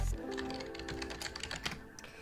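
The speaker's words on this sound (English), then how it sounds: "let's do our typing test, guys" Quick, close computer keyboard typing during an online typing test, with a soft patter of keystrokes that starts after a brief thump and runs unevenly for a couple of seconds.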